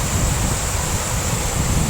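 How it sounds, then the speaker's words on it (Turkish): A seasonal waterfall drops about 30 metres, giving a steady, unbroken roar of falling water that fills the whole clip with no talking. "Şelalenin sesi biraz da benim sesim bastıracak tabi."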